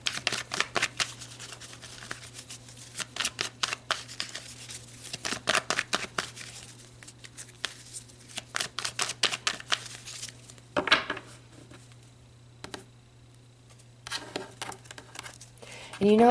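Close, rapid riffling of cards being shuffled in repeated bursts, with brief quiet pauses between rounds.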